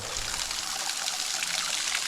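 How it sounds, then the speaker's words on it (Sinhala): Cold spring water in the Knuckles forest trickles and splashes steadily in a continuous, close babbling flow with no pauses and no voices. "මේ බලන්න මේ උල්පත්"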